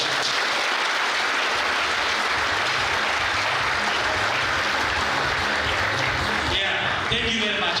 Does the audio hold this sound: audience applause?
yes